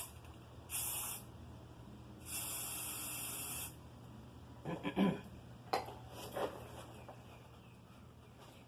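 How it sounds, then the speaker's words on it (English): Short hissing bursts of spray paint, white, sprayed into a mold for a beach serving tray, come in two separate blasts, with faint clatter and handling noises afterward. "all I'm going to do is spray paint right in there."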